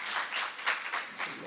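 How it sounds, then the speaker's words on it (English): Brief burst of audience applause for a presenter at a postgraduate research conference, a soft, moderate patter of clapping from a modest crowd. "Please, can we give her a round of applause as she comes?"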